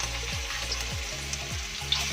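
Spice paste sizzling and frying as it goes into a hot pan for Mie Aceh, a steady loud hiss with a few soft stirring scrapes throughout.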